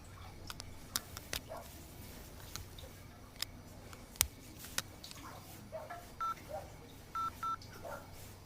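Telephone keypad tones dial the Telangana Police 100 helpline: a few short, faint beeps late in the clip, some in quick pairs, over a low background hum with scattered clicks.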